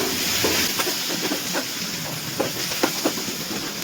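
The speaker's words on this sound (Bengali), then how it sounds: "টমেটো আর পেঁয়াজটাকে একটু নাড়াচাড়া করে নিয়েছি" Tomato and onion with a little salt frying in oil for chicken do pyaza, a steady hiss and sizzle with soft intermittent scrapes of stirring, close and moderately quiet, no voices.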